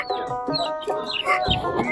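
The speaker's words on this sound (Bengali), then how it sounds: "মুরগি" Native country chickens at a traditional rural Bengali animal market cluck and squawk in quick, close, overlapping calls over the whole short moment.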